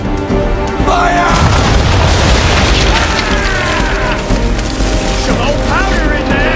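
Ship cannons firing in Assassin's Creed 3, loud booming blasts with splintering crashes over a constant rumble of sea and battle noise, voices mixed in.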